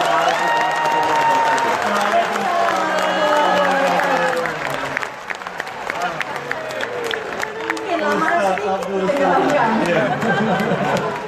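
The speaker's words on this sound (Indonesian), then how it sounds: "Kita beri tepuk tangan sekali lagi untuk Ustaz Abdul Somad." Live audience applauding and cheering for Ustaz Abdul Somad at an Indonesian public event, a dense, steady crowd clapping with chatter mixed through it, continuing under someone talking.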